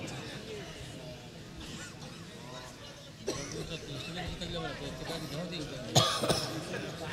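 Coughing breaks out during a Bangla Islamic sermon at a Ramadan Taraweeh gathering, with brief bursts rising over steady crowd murmur and talk, sharper near the end.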